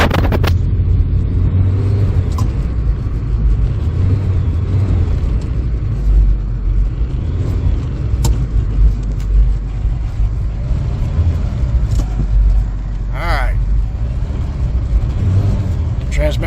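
A 1992 SAAB Turbo that has sat unused for a long time drives with its engine running, a loud low rumble with mild revving and no clear gear changes, and a voice speaking over it.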